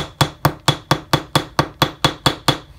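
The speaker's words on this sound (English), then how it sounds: "I first hammer the texture into the metal" Eleven sharp, evenly spaced hammer strikes ring out on an aluminum cuff bracelet blank as texture is pounded into the metal, each blow loud and close with a short metallic decay, no voices.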